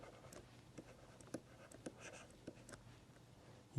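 Chalk or marker strokes on a lecture-hall board, a series of faint scratchy taps and short squeaks in an irregular writing rhythm, heard alone with no talking.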